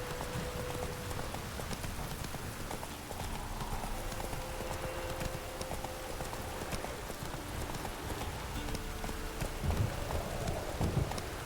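Geralt's horse Roach in The Witcher 3 plods along with a steady clip-clop of hooves under a constant patter of rain, sustained at a moderate level throughout.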